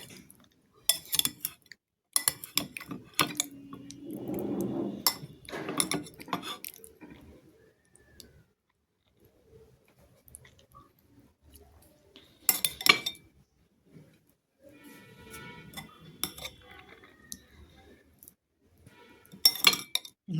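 Cutlery clinks and scrapes against plates during a home dinner of snakehead fish cooked with peas and salad, sporadic sharp clatters in clusters separated by near-silent pauses, with faint chewing between.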